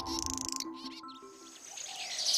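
Baya weaver birds call near their nests by Ameenpur Lake, a busy mix of chirps and trills over a steady tonal background, fairly close and with no talking.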